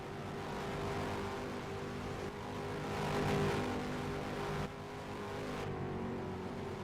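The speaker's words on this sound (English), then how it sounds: "Twin Turbo V6 comes another lap through" Twin turbo V6 race car in a video game race at Lakeside Castle, a loud sustained engine drone with shifting pitch as it laps through, steady throughout without speech.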